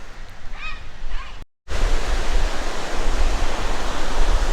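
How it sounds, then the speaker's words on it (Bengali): Sea waves and strong wind roar as a steady, loud broadband rush at a seaside park in Chennai, broken by a brief silent cut early on. "একদম সমুদ্র সুদূর বিস্তৃত বড় সমুদ্র আর হাওয়া দিচ্ছে কীরকম দেখুন"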